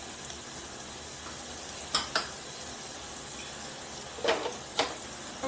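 Hot water is poured into a pan of frying potatoes and peas, giving a steady sizzle with a few sharper hisses and clinks near the cook, faint and continuous.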